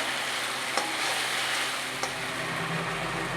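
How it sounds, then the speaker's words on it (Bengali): Ginger-garlic masala paste frying in a pan, a steady dense sizzle that runs throughout, close up, with a couple of brief spatula clicks against the pan. "ভালো করে আরেকটু ভেজে নেব। আমি দিয়ে দেবো আদা রসুন বাটাটা।"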